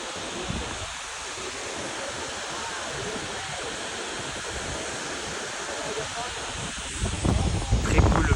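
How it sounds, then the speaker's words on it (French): A waterfall in Da Lat, Vietnam roars as a broad, continuous rushing hiss that holds steady, then swells louder near the end. "là c'est la deuxième cascade qu'on prend"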